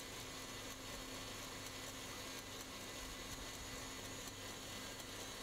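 An electric mixer whisks eggs and sugar, with egg yolks being added, for a Turkish trileçe cake, a steady, dense, continuous whirring drone that stays even and close throughout, with no talk.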